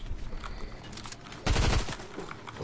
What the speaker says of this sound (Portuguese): Opa, foi eu que atirei